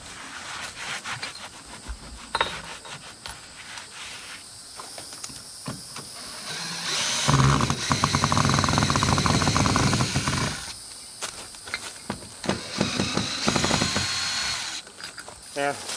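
Screws being backed out of a rotted wooden deck ledger board attached to a 1984 mobile home, a steady whirring, grinding drive noise with ratcheting bursts that stops and restarts, close and fairly loud.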